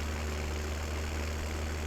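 An old tractor engine drones in Farming Simulator 17, hauling a big tipper trailer loaded with 21,000 liters of canola. The steady, close, low engine hum holds an even pitch throughout.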